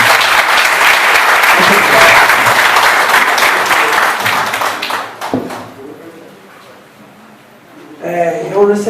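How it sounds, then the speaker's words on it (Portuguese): Loud, sustained applause from a capoeira meeting audience fills the first five seconds, then fades into scattered claps and murmuring before voices rise again at the end. "Por favor, salva de palmas para"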